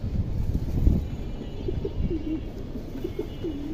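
A large Indian high-flyer pigeon gives a few soft, low coos close by, repeated in short phrases over quiet background rumble.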